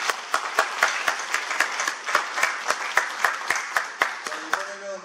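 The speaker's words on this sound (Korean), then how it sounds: "다시 한번 박수 한번 쳐주시고요" An audience at an Ansan mayoral candidate debate claps in sharp, evenly spaced strikes that sound almost in unison. The clapping is close and fairly loud, and a voice begins speaking just as it ends.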